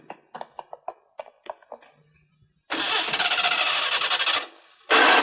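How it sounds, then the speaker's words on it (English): A starter motor clicks in short repeated bursts, then cranks loudly for a couple of seconds without catching, followed by another brief crank. "The engine doesn't seem to be starting."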